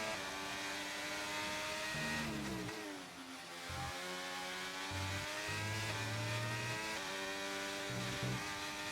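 An Alpine Formula race car in a racing video game screams through a flying lap in Abu Dhabi with the battery deployed, its engine note rising and dropping sharply through gear changes and corners, loud and continuous.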